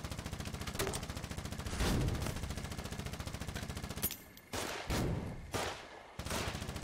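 Rapid machine-gun fire in a war video game, long continuous bursts up close, then shorter, choppier bursts with gaps between them.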